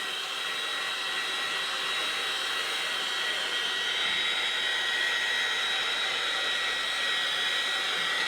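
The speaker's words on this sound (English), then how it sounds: "So a nice flash with the dryer." A hair dryer blows on wet watercolour paper during a landscape painting, giving a loud, steady, even whir that runs unbroken with no voices.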